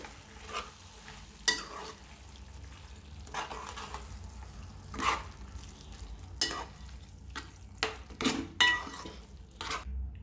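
Grated raw mango stirred into a simmering mixture in a pan, soft scraping strokes of a spoon with occasional clinks against the metal over a faint low sizzle.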